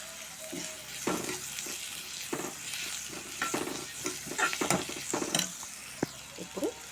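Onions, green chillies and curry leaves fry in a pan with a continuous soft sizzle, overlaid by repeated scraping and tapping of a spoon as the mixture is stirred, with no talking.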